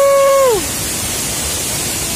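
Gangsa waterfall in Kasui, Lampung, pours as a steady, broad rush of falling water, briefly overlapped at the start by a fading, downward-sliding tone.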